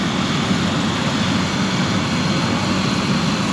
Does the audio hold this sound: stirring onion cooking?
no